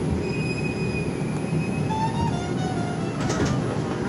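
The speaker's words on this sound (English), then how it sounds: "This is a Manhattan-bound 4 train." A Manhattan-bound 4 subway train runs loud and close with a constant rumbling roar, scattered wheel squeals and a rising metallic screech near the end, no talking.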